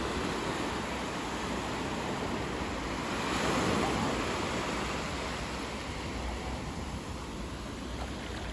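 Ocean surf rolls steadily onto the beach at Devils Punch Bowl on the Oregon coast, a continuous broad wash of breaking waves with wind noise, swelling briefly louder midway.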